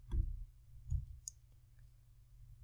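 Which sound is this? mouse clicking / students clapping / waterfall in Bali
mouse clicking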